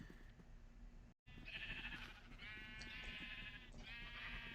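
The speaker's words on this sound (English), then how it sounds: "come with me, sheep. We're going to the sheep farm." Sheep in Minecraft bleat in a series of wavering, nasal cries, several overlapping calls close by and fairly loud, with a brief silent gap early on and no speech.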